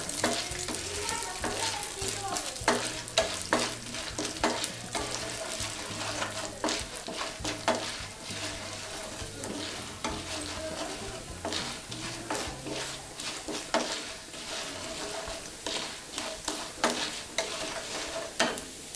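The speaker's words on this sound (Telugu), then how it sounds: "2 స్పూన్ల మినప్పప్పు, 1 స్పూన్ ఆవాలు దోరగా వేయించుకోవాలి." Chana dal, urad dal and mustard seeds roasting in a pan for coconut chutney, a soft steady sizzle broken by frequent quick spoon scrapes and rattles of stirring, close but low in level, with no voices.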